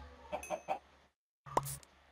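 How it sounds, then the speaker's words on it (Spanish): Chicken clucks from a farming video game, a few short rhythmic clucks followed by a brief pause and a louder single squawk, fairly faint overall. "Bien, mira, ya tenemos un pollo."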